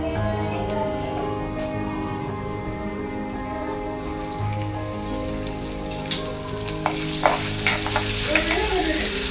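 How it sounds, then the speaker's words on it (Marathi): Cumin seeds, curry leaves and ginger-garlic paste fry in a generous pool of hot oil for paneer curry, giving a steady close sizzle with scattered sharper pops and crackles that build toward the end. "गरजेनुसार तेल घ्यावे व त्याच्यात आवडीनुसार जिरे, कढीपत्ता आणि अद्रक लसूण पेस्ट टाकावी."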